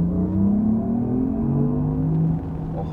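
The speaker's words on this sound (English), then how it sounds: "you can hear that electric sound in there" A 2024 Porsche Macan 4 Electric in sports mode produces a smooth rising electric motor whine with a low rumble of road noise, steady and close inside the cabin.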